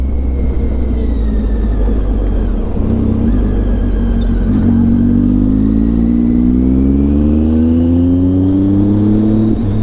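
A Triumph Tiger 900 motorcycle in sports riding mode accelerates hard, its engine note climbing steadily through the revs over steady wind and road noise, loud and close.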